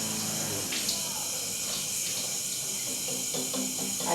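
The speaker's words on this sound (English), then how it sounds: "I'm seriously washing a straw in front of the camera" Tap water runs in a steady hiss while a drinking straw is washed, with a few soft clinks and a faint voice in the background.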